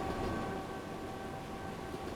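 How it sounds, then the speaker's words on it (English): A train passing on the other track in Train Simulator Classic on the London to Birmingham route in fog, heard as a steady, even rumble with a faint sustained tone throughout. "Is that a train going the other way?"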